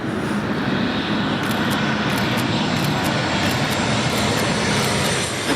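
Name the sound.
airplane flying overhead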